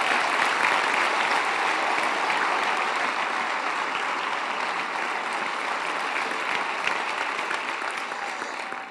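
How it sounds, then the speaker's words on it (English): Steady, dense applause from a gala audience fills the room, a continuous wash of many hands clapping at even loudness with no talk over it. "give yourselves a round of applause"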